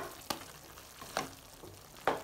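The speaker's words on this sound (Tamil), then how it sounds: "நல்லா கலந்து விட்டுக்கலாம்." Maggi vegetable noodles are stirred in a pan over a medium flame: three short, faint scraping strokes spaced under a second apart, each with a soft sizzle.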